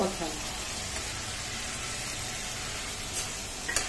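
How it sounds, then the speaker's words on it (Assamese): Steady sizzling of spices frying in hot oil, a constant crackling hiss with a faint clink near the end. "এয়া মই গোটেইখিনি মছলাই ভালদৰে ভাজি ল'লোঁ"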